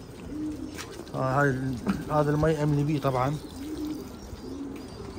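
Pigeons in a loft coo in a run of throaty, rhythmic calls under someone speaking nearby, the cooing close and moderately loud.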